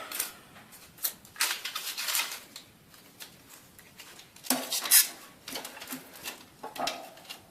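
Kindling and split wood are stacked crisscross into a wood stove, a series of dry wooden knocks, clatters and scrapes in irregular bursts, close by with short quiet gaps between pieces.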